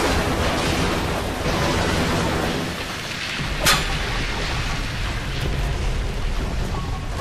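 Rushing water of a small water slide in the BioShock video game, a steady loud broadband wash that runs the whole time with a brief bright splash near the middle.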